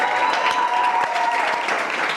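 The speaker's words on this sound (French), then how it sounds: "On applaudit pour notre invité." A studio audience claps steadily for a guest on a French music show, a dense continuous applause close by with a faint tonal note running under it.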